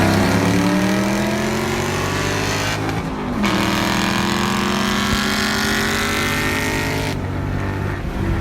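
A 2012 Mustang 5.0 Coyote and a bolt-on 4.6L 3V Mustang GT in a close roll race, engines roaring loud and continuous as they accelerate through gears, pitch climbing then dropping at shifts around three and seven seconds.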